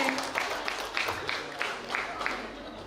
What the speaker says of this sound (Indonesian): Tepuk tangan dulu untuk Regu deh.